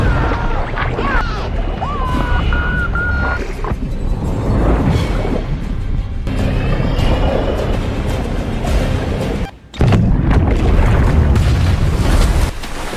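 Heavy booming blasts and crashing rumbles fill the scene, loud and chaotic, with a brief drop to near silence before another surge of roaring noise.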